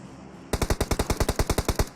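A rapid burst of automatic gunfire in the PUBG Mobile game, about a dozen loud, evenly spaced shots fired after a brief quiet moment.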